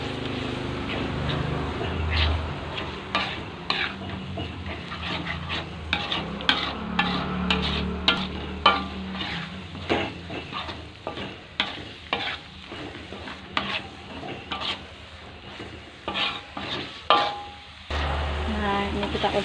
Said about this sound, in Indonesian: Nah, kita aduk-aduk merata ya.